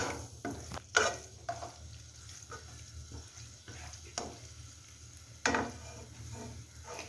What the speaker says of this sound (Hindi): अदरक लहसुन को थोड़ा सा सौते कर रहे हैं